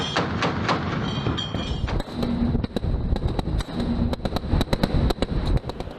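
Naval guns aboard a ship fire disciplined bursts at a fast-moving target at sea, producing sharp repeated loud bangs and thuds in irregular clusters over a continuous rumbling background.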